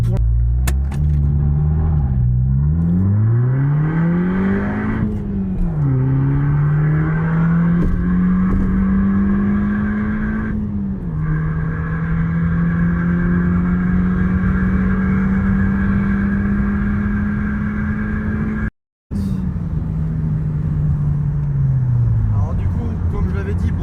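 An Audi TT coupe with a 1.8 TFSI engine accelerates hard from inside the cabin, its engine note climbing through several gears with brief dips at each shift, a loud, continuous drone.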